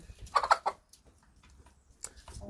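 A white hen clucks nearby on a farmstead. A short burst of three or four clucks is followed by fainter scattered sounds and another brief call near the end.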